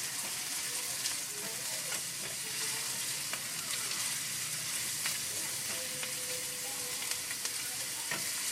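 Yellow onions fry in a pan for enchilada sauce, giving a steady close sizzle with occasional soft scrapes of stirring throughout, no voices.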